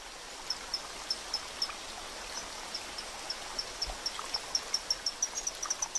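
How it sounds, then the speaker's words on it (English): Rushing water from a waterfall in Borneo pours steadily in the background while crickets chirp in quick repeated pulses on top, fairly quiet overall. "But they can't shout over the waterfall."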